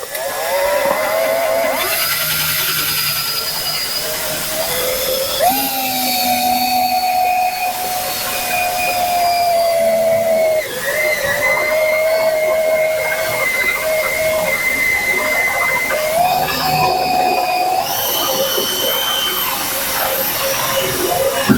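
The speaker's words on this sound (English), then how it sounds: "the next step is to drill this hole for the cable." An electric drill bores a hole for a cable during a car pedal replacement and rust repair, a loud continuous whine that shifts pitch in several stages as the motor loads and eases over about twenty seconds.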